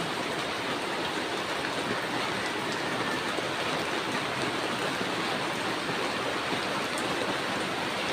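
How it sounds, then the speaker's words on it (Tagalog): Steady, dense rain pours down continuously, a constant hissing wash with no voices and no breaks. "It's raining all night."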